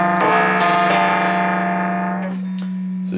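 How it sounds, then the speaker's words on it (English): A flanger pedal pushed to extremes gives off metallic, ring-modulator-like tones, a dense buzzing chord over a steady low hum, with faint clicks as the tone thins and fades out. "You sort of get ring modulator tones"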